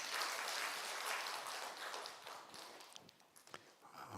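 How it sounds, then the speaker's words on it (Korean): Applause from a congregation at a Saturday church worship service, a dense wash of clapping that thins out toward the end into scattered individual claps. "우리 박수 한번 쳐드리세요"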